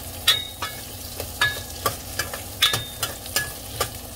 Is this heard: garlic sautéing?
yes